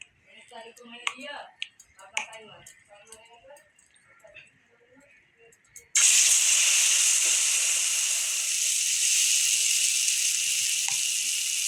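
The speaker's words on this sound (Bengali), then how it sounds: "আমার এখন তেল গরম হয়ে গেছে, আমি এখন এক এক করে এগুলি ভেজে নেব।" Pumpkin, eggplant and potato slices drop into hot white oil and burst into a loud, steady frying hiss that fills the second half, after a quieter stretch of small clicks and handling noises.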